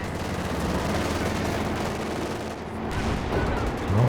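Gunfire in the World War II strategy game Company of Heroes 2: dense, continuous rattling volleys mixed with heavier distant thuds, loud and steady throughout with no talk.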